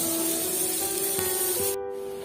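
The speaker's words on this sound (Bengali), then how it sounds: "কড়াটা তো গরমই আছে, এর মধ্যে কটা রসুন থেতো করে রেখেছিলাম, সেই রসুন থেতোটার মধ্যে একটু পেঁয়াজ দিয়ে দিলাম" Crushed garlic and onion hit a hot wok and sizzle in a steady, close broadband hiss that runs continuously and cuts off abruptly near the end.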